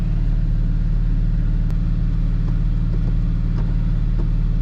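A Porsche GT4 with a manual gearbox rolls off in gear, giving a steady low engine rumble heard from inside the cabin, with faint small clicks over it and no talk.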